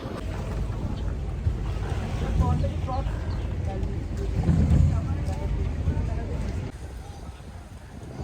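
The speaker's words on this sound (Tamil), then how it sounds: "இதுதான் நாங்கள் வந்த boat house, Venice premium boat house" Venice Premium houseboat on the backwaters at Alappuzha: continuous low rumble of boat engine and water with wind buffeting the microphone, and a voice talking faintly beneath the noise.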